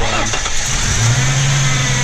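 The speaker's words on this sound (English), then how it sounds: "All right, so we're going to turn on the car here." A 2000 Ford Mustang V6 starting up, a brief cranking whir that catches into a steady low idle with a slight exhaust leak, loud and close throughout.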